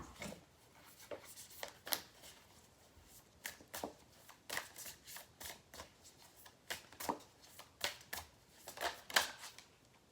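A deck of oracle cards is shuffled by hand, giving a steady run of crisp, close riffles and soft card slaps in irregular bursts over about ten seconds, with no talking.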